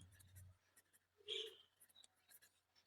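A pen writes on paper in a math lesson with soft, scratchy strokes, including one louder stroke, close and quiet.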